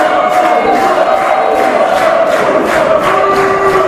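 Wrestling crowd at a TCW Spring Storm event rallies behind Rich Swann, loud sustained cheering and chanting with rhythmic clapping bursts across the whole stretch.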